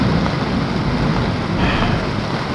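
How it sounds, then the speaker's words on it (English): A played rain sound effect gives a loud, continuous patter and hiss of heavy rainfall, dense and even throughout with no voices over it. "It's raining out here."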